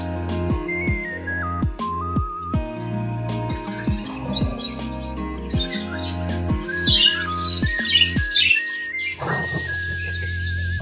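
A budgerigar colony chirps and squawks in scattered bursts that grow busier toward the end, sitting beneath steady, louder music.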